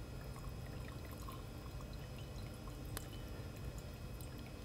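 Liquid drips and trickles steadily from a separating funnel into a lab vessel, a faint continuous pour with soft scattered drops and no talking.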